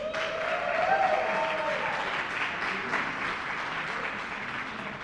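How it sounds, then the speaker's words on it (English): Applause at the launch of a virtual incubator, a dense, even wash of many hands clapping that holds steady for several seconds, fairly close and full, with a faint tone fading early on. "Can we get a round of applause for that?"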